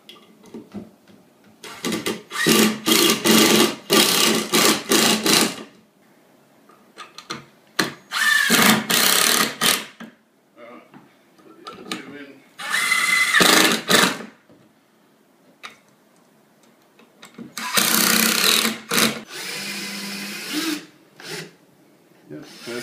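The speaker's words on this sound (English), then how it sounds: "So start the drill vertical, get a grip, don't go too far or you'll break the drill bit" A power drill bores into a plasterboard wall during repair of a large hole, sounding in several loud, close bursts of a few seconds each, separated by pauses.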